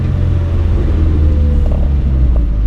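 A slammed 1981 Datsun 720 truck driving, its engine a loud, deep, steady low rumble heard close from inside or beside the vehicle, with no other sounds on top.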